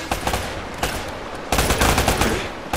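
Gunfire in Uncharted: Drake's Fortune comes as loud, close bursts of rapid shots, a short volley, a second, and then a heavier sustained stretch of shooting.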